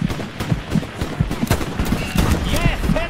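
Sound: Mosin rifle gunshot in a video game

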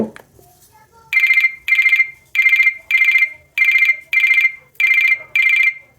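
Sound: ringtone of 5 Star BD140 feature phone

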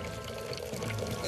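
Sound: water pouring into a broken submarine, cartoon

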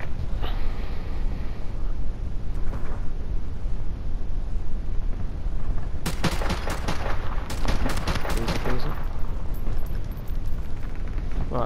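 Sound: AK rifle gunfire in a video game

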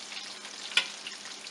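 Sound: catfish frying in hot popping grease

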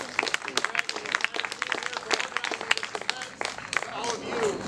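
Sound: applause

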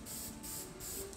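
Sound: spray painting with spray paint can

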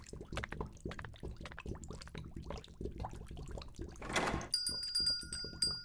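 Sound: bell ringing

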